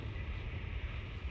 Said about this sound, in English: That's the sound of any ship jumping in, but I know it's my ship jumping in.